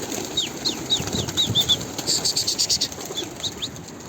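Wings flap in quick rhythmic bursts as birds fly past, with soft chirps and a steady outdoor hiss underneath.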